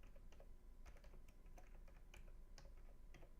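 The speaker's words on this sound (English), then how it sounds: "That's a little typing in the background" Light typing on a computer keyboard in the background, irregular soft clicks and taps in short bursts, quiet and fairly close, with no talk over it.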